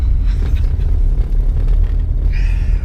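A classic Mini's engine rumbles deep and steady from inside the cabin while driving through London, a continuous loud low drone with faint road noise over it.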